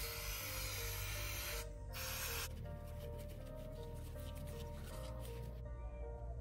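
Aerosol spray of brake fluid hissing onto the brake caliper of a Royal Enfield Interceptor 650 motorcycle, in a couple of sustained close bursts with brief pauses.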